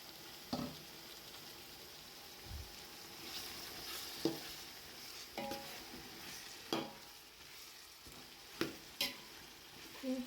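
Masala and boiled vegetables stirred in a pan for veg biryani, soft low sizzle under intermittent spoon knocks and scrapes against the pot, quiet and close with no talk.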